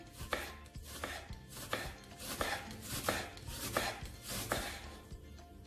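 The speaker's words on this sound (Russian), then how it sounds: "Лук нарезаем тонкими полукольцами." Onion sliced into thin half-rings with a knife on a cutting board, crisp steady chops at an even rhythm, close and clear with no talking.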